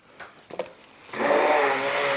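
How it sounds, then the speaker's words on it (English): A few clattering knocks, then a stick blender whirs on, pureeing agua fresca, and runs steadily with a loud, high motor whine until the end. "Onto the counter, get my stick blender."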